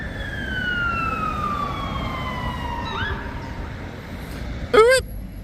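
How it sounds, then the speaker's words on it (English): A fire engine siren wailing at a distance on a city street, its pitch sliding slowly downward over several seconds before a short burst of rapid yelping whoops close to the end, over light background noise. "get you guys a really nice long shot of the fire engine"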